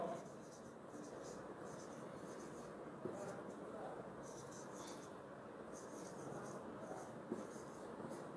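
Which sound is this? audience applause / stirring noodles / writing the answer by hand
writing the answer by hand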